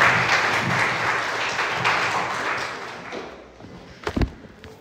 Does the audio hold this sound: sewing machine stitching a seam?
no